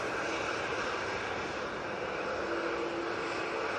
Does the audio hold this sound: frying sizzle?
no